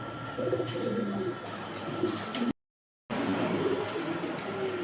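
Mundian pigeons coo at a pigeon farm, low soft calls repeating nearby, broken by one short moment of complete silence.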